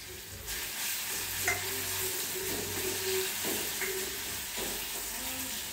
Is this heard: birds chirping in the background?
no